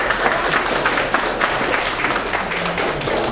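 An indoor audience claps steadily through the whole moment at the opening ceremony of a children's billiards tournament for ages 4 to 11, the Kharkiv city cup, with dense, continuous applause close to the listener.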